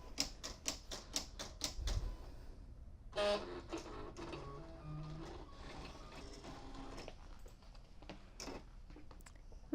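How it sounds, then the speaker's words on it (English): A Silhouette cutting machine cuts material with a series of rapid clicking taps at the start, then quieter whirring and shuffling movements as the blade carriage works, all faint and close. "now it's going to send it through and cut it"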